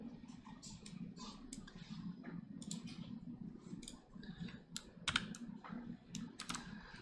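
A password being typed on a computer keyboard, a quick, irregular run of soft key clicks, close and fairly quiet with no voices.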